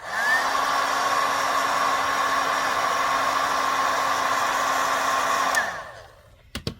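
Heat tool melting embossing powder on cardstock for a wedding card, a steady loud blowing whir for about five seconds that then winds down and cuts off, followed by a couple of small clicks.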